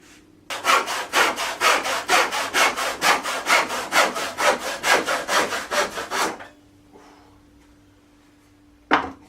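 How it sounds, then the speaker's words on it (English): A hand saw cuts through wood in about twenty quick, even back-and-forth strokes, loud and close. The strokes stop abruptly, a quiet pause follows, and a single short knock comes at the end. "Use my beautiful saw."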